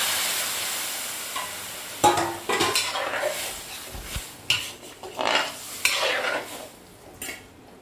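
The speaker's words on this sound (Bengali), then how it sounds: "এবার আমি ঢেলে দেব সেদ্ধ করা ডাল।" Boiled chana dal goes into a pan of fried spices in oil, and soft sizzling follows, broken by several sharp clinks and scrapes of a spoon against the pan. No one speaks.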